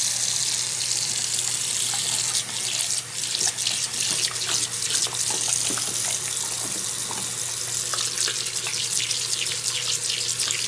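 Water streams steadily from a sink faucet into the basin, a loud continuous hissing splash with small spattering variations throughout and no talk.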